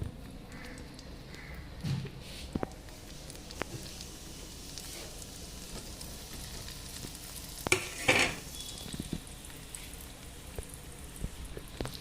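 Taco filling fries in a small amount of oil in a pan, giving a continuous soft sizzle with occasional stirring scrapes and taps throughout, and no talking.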